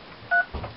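A single DTMF keypad tone beeps once on a speakerphone as a number is dialed, short and clear above a faint background murmur.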